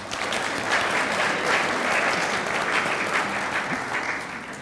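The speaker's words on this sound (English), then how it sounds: "another round of applause for the orchestra." An audience at a community jazz brunch in Joliet, Illinois applauds the orchestra, with dense, even clapping that holds steady and then tapers slightly toward the end.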